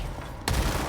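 Gunfire in the video game Control: after a low background rumble, a sharp close shot cracks in and is followed by a dense, noisy burst of firing.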